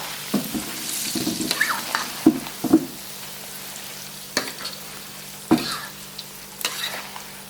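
Raw mango pickle, Khandeshi style with jaggery and plenty of oil, gets mixed in a large batch, producing wet squelching and scattered clicks and knocks in an irregular rhythm, close by with no talking.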